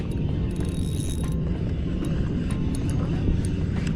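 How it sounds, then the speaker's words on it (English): A helicopter passes over a boat on San Diego Bay in the evening, a loud continuous rotor and engine drone that holds steady throughout, with faint chatter in the background. "Oh, it's a heli."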